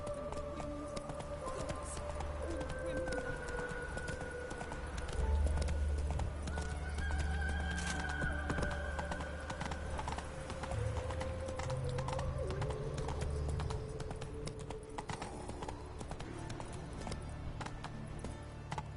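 Roach the horse gallops in The Witcher 3 video game, a continuous rapid clip-clop of hooves with occasional whinnies, steady and fairly loud under game music, with no talking.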